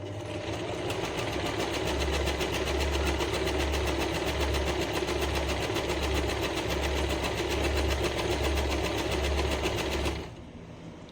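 An Usha Janome DLX sewing machine runs continuously at a steady, rapid rhythmic hum and clatter for about ten seconds, then stops.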